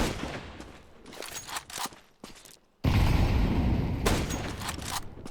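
Gunfire on Dust2 in a Counter-Strike esports match, several sharp rifle shots at first, then a sudden loud burst of sustained firing that stays intense, with no talk over it.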